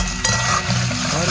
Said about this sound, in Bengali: ডালের বড়ি, মা আবারও নেড়ে ভেজে নিচ্ছে।